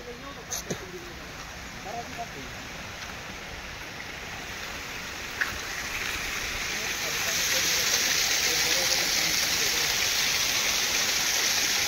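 Water gushes steadily through the gate of a village dam, a broad continuous roar that grows louder partway through while people talk over it.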